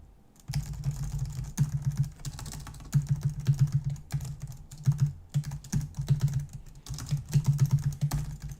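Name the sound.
typing on a computer keyboard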